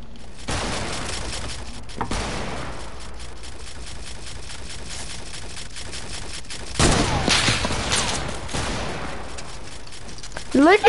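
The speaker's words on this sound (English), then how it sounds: "how many times did you spam hunting rifles?" Hunting rifle fire in a video game, sharp repeated cracks scattered across the stretch, with a heavier cluster of shots near the end, under ongoing voices.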